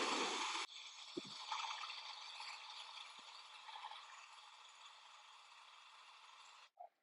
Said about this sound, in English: take this torch, and I'm going to heat these threads on the end of this, so this will break loose